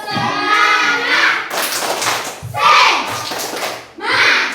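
A group of schoolchildren in a classroom perform a rhythmic spirit clap, with patterned hand claps and thumps woven into loud group chanting, close and energetic.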